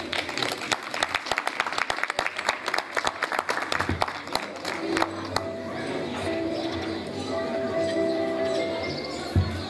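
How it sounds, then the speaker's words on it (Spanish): An audience at an inauguration ceremony in Las Mercedes greets the directors of Asociación Avivará with loud, brisk clapping for about five seconds, which then fades into open-air ambience with birds chirping. "Recibirlos con fuertes aplausos."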